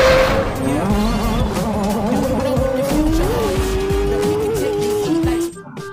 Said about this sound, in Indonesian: Di sini ada mobil balap F1.